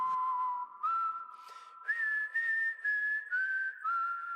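A person whistles a slow, clear melody up close, holding long sliding notes with short breaths between phrases.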